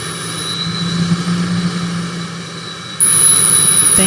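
A jet airliner engine in a flight simulator game landing replay at London gives a steady loud roar with a low hum, jumping louder with a high whine for the final second.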